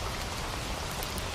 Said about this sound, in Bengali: টিনের চালের উপর টুপটাপ শব্দে জমে উঠেছে এক নিঃশব্দ গান